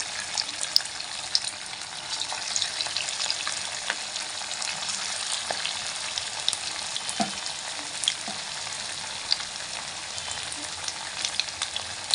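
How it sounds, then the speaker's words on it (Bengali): Steady crackling sizzle of pakoras frying in hot oil, continuous and close, with occasional louder pops and a faint clink of utensils. "এইসব পকোড়াগুলোকে আবার এক এক করে নিয়ে আমি এখন ভাজবো"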